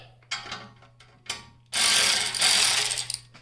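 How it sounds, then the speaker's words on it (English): A band clamp on a turbo setup is loosened with a ratcheting tool: two short clicking bursts, then a longer, louder run of rapid ratchet clicks, close and with no talk. "Loosen this band clamp up."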